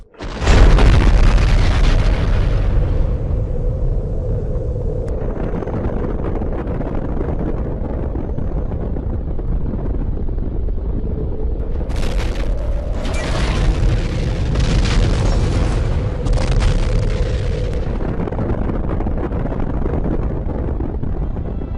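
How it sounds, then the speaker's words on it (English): Deep atomic bomb explosions in a Minecraft-style animation, a heavy booming rumble that swells in at the start and rolls on continuously, with bright crackling bursts layered over it midway, loud and with no talking. "The United States detonated 2 atomic bombs over the Japanese cities of Hiroshima and Nagasaki"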